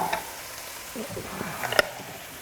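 Radicchio and Italian parsley hit a hot pan, giving a soft, close sizzle with a few light stirring clatters and clinks near the end.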